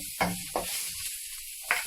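Garlic sizzles in hot oil in a pan with a steady frying hiss, marked by a few louder bursts of crackle near the start and end, with no talking.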